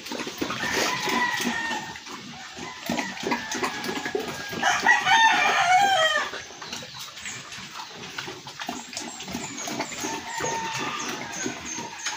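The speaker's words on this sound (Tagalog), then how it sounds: "At yan po ang inahin." A mother hen clucks nearby on a farm with pigs, in short repeated calls among other chicken sounds, including a brief crowing burst midway, fairly faint and with no talk.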